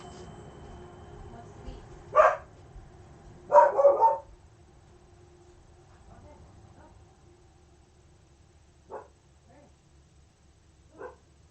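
A dog barks in the distance, a few short scattered barks with a double burst, faint against a quiet room and then a couple of softer yaps later.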